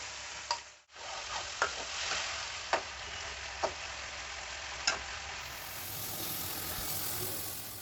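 Marinated prawns frying in spiced oil for a Bengali prawn pulao, a steady close sizzle punctuated by several sharp ladle clinks and scrapes, with a brief dropout near the start.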